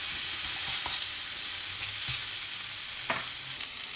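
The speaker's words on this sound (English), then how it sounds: "we need to heat up these hot dogs" Hot dogs and broken-up ingredients frying in a pan for a hot dog omelette, a steady close sizzle with occasional stirring clicks and scrapes, no talking.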